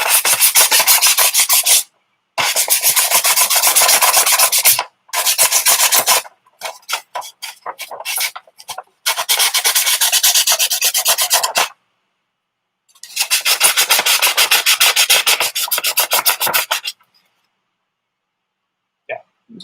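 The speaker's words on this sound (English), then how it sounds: "Doing a lot of sanding and stuff." Hand sanding on a cosplay prop gun, with steady back-and-forth rasping strokes in long loud bursts separated by short pauses, close up and with no talking.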